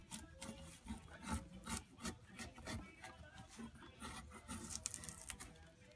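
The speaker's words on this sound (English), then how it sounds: "the way to pull and push with a spatula" A spatula is pushed and pulled two-handed at a slight angle across a wood surface during tiny house construction, giving a steady rasping, rubbing scrape in repeated strokes, close and faint, with no voices.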